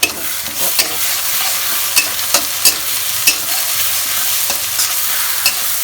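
A spice paste of garlic, ginger, coriander and cumin fries in a pan with a loud, steady sizzle, while a spoon stirs and scrapes it in repeated strokes. No one talks.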